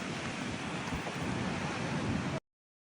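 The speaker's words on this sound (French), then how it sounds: "Le vent là qu'il y a, trop agréable" Beach wind roars steadily into the microphone, mixed with a broad wash of surf, loud and constant before cutting off abruptly near the end.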